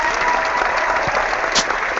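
Crowd applause, a burst of many hands clapping at close range, dense and steady for about two seconds with no voices over it.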